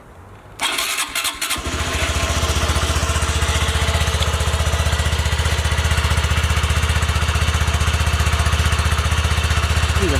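A Honda Grom motorcycle fitted with a new exhaust starts up after a brief cranking stutter, then settles into a loud, steady, close-up idle with an even pulsing beat.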